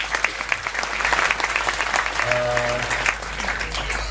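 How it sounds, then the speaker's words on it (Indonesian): Audience applause for Pak Indra at a music performance gathering, steady dense clapping throughout, with a brief tonal hum or voice rising partway through. "kita sekali lagi tepuk tangan untuk Pak Indra"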